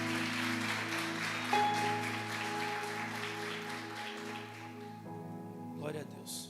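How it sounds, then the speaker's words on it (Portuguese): A congregation applauds in a steady wash of clapping over sustained keyboard chords at a church youth service, then the clapping thins out and fades near the end. "Você pode aplaudir ao Senhor por esta palavra?"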